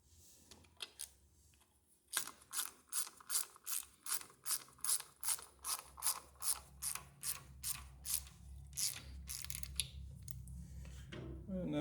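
A 7/16 ratchet tightens a valve adjuster nut on an IH Cub Cadet 100 tractor, giving a steady run of about twenty close, crisp clicks after a few scattered taps, with a low hum building underneath toward the end.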